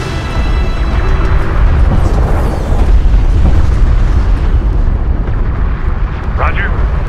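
Railgun fire and explosions rumble through a battle in the real-time strategy game Homeworld: Deserts of Kharak, a dense, continuous low roar with scattered booms and bursts that never lets up across the stretch.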